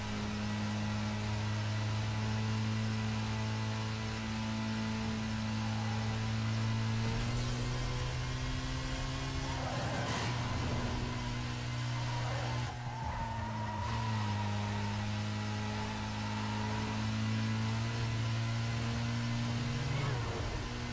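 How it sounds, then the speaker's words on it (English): A BMW M3 GTR engine in Need for Speed Most Wanted holds a steady drone with engine harmonics, shifting pitch slightly around shifts, over continuous game background noise. "The sound of the M3 GTR in this game sounds pretty damn good."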